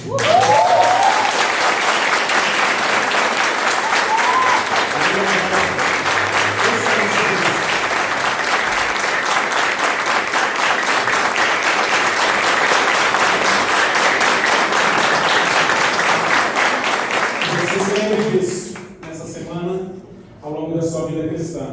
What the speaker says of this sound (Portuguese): E nós vamos aplaudir esse vencedor